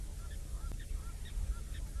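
Egyptian geese honk repeatedly at a distance from a waterhole, faint nasal calls rising over wind noise and a low outdoor rumble.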